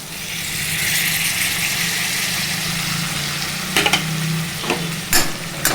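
Tomato pieces sizzle steadily in a hot pan for drumstick pulusu, a broad continuous frying hiss with a few sharp scraping stirs near the end and no talking.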